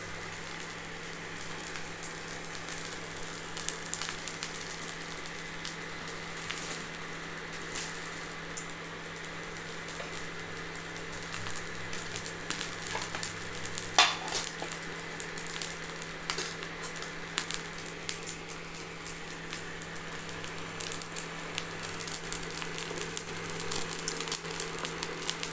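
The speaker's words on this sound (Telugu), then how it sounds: "తర్వాత కొంచెం నూనె వేసి మెల్లిగా టోస్ట్ అవ్వండి." Bread slices toasting slowly in a little oil in a pan give a steady, soft sizzle and crackle throughout, with occasional louder pops and scrapes from a spatula turning them.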